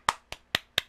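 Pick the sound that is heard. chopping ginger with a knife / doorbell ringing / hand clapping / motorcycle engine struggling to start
hand clapping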